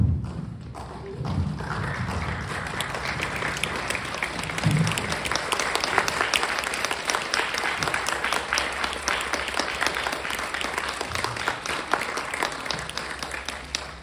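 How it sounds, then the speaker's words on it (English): An audience stands and applauds at a cat club memorial tribute, with sustained, fairly distant clapping and a few low thumps from people rising, continuing steadily for about fourteen seconds. "Here I think it would be most appropriate to stand and applaud a life well lived"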